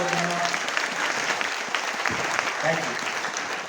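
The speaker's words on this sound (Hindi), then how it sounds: "एक बार दोनों हाथ ऊपर करके उनके लिए ताली जोरदार वाली बजा लीजिए।" An audience at a seminar in Agra claps in sustained, dense applause at even loudness throughout, with a voice faintly audible beneath it.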